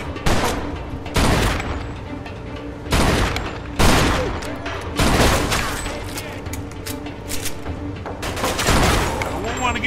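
Gunfire from the video game Mafia 2 erupts in repeated loud bursts and volleys, separated by short pauses, with game voices occasionally heard between shots.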